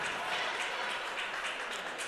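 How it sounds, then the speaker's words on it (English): A crowd applauds a penalty at a women's junior hockey game, Ottawa Jr. 67s against Stanstead Spartans, in a steady wash of clapping that holds evenly throughout at a moderate distance. "I don't know why people applaud for a penalty"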